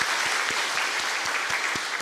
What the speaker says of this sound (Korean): 우리 할렐루야 찬양대를 위해서도 한번 박수로 크게 격려하겠습니다